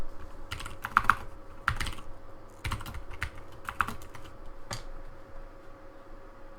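Someone types in bursts on a computer keyboard while working in Excel, with crisp individual key clicks and brief pauses over a faint steady hum.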